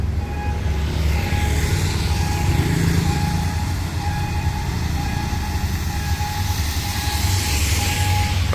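A Hitachi 4507 diesel locomotive hauling a container train gives a loud, steady rumbling engine drone with rail noise, heard close and continuous without talk.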